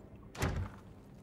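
A door closes in the stealth video game Hitman 3 with one muffled thud, moderately loud against quiet room tone.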